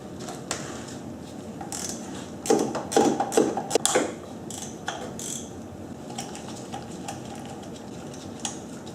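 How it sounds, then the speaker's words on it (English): Ratchet wrench loosening 8 mm bolts near the rear sprocket of a Honda VFR800Fi motorcycle during a chain and sprocket change; repeated close clicking pawl bursts, busiest in the middle, then sparser ticks, no talking. "So we're going to take off these bolts."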